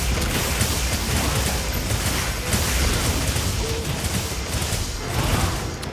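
Explosions in the video game Monster Hunter roar in a dense, continuous barrage of booms and crashes, loud and close, with no pause for the whole stretch.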